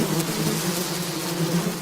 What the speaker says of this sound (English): I'll try it again and then put in a bee sound.